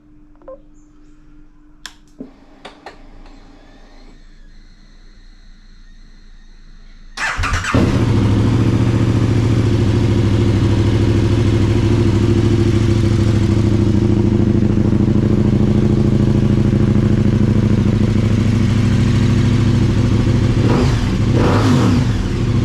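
A KTM 1290 motorcycle with freshly changed spark plugs clicks and beeps quietly through its ignition sequence, then its engine fires up loud and close, idling with a heavy steady rumble and sharp throttle blips near the end.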